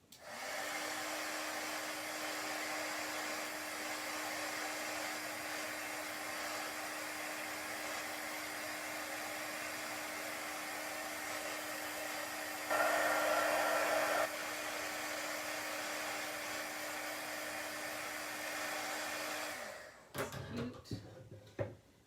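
A hair dryer blows steadily and close for about twenty seconds, drying chalk paste on a craft project, its loud even whoosh briefly rising in pitch before it switches off into a few handling knocks.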